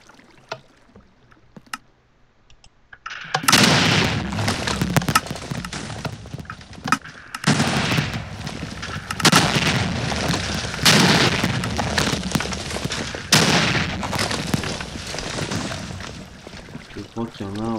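Minecraft TNT cannon firing rapidly in the game, loud booming explosions following one another in quick bursts after a quiet start, with sustained rumbling blasts throughout.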